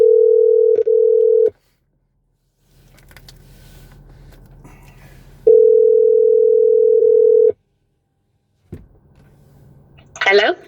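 A loud, steady telephone dial tone plays in two long stretches, with a click and faint background murmur between them and a brief rustle at the end.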